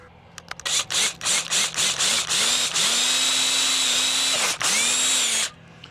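A power drill bores a hole in a homemade fishing mount, the motor starting and stopping in several short bursts before one long, loud run that pauses briefly and then finishes.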